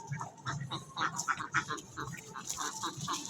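Ducks from a large village duck farm flock, a dense chorus of overlapping quacks and calls close by, rising and falling in short bursts with no break.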